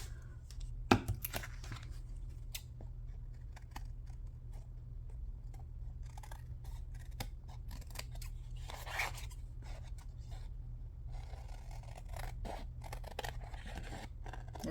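Scissors snip while someone works on a tagbook art project, giving faint, sparse, irregular cuts and crinkles over a low steady hum, with no talk.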